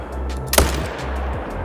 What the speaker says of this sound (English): Let's shoot him and find out.